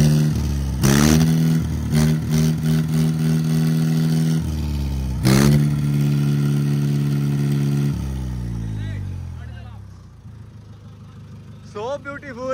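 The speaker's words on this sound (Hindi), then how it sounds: "ट्रैक्टर की आवाज़ चेक करो भाई," A heavy modified tractor engine revs up and down in strong bursts, close and loud, then settles toward a steadier idle as a voice briefly speaks.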